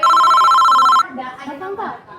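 A telephone rings during a call, a loud steady electronic ring lasting about a second before cutting off, followed by quieter voices talking.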